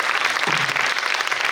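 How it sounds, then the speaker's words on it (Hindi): Audience clapping at a college event, a short steady patter of many hands with a faint hummed note underneath. "तो आपका ताली बजाने का मन है तो ताली बजाइए"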